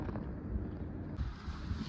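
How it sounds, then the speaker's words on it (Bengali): Strong wind on a freezing night at minus eight degrees in the mountains near Sissu, a steady loud low roar buffeting the microphone with rumbling gusts. "দেখো, এটা দেখলে বুঝতে পারবে কত জোরে হাওয়া চলছে।"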